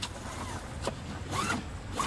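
Quick rasping pulls on the recoil starter cord of a Ryobi RYi1000 1000-watt inverter generator set on choke, about three or four short zips in a row without the engine catching.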